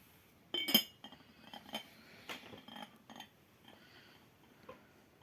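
Light porcelain clinks and taps from a Kremges porcelain lid, one sharper clink followed by several softer knocks, close and quiet.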